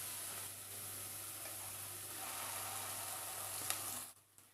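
Onion and ground masala paste frying in a pan for a chana masala curry, giving a steady, soft sizzle that runs without a break and then cuts off near the end.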